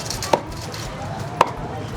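Two crisp cleaver chops land about a second apart on a cutting board while cutting up a duck, close and distinct over a low background murmur, at a small Saigon duck noodle shop.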